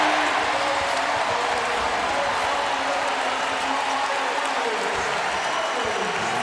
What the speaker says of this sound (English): By the sound of the crowd, that's what they've been waiting for.